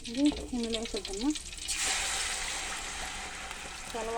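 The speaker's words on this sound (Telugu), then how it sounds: "పచ్చివాసన పోయినంత వరకు వేపుకోవాలి" Tomatoes for tomato pickle hit hot oil and break into a loud, steady sizzle that fills the rest of the moment, preceded by someone talking and followed by her voice again at the end.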